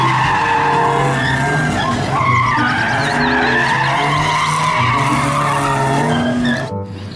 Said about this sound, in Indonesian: Lihat di sini kita menemukan mobil polisi patwal.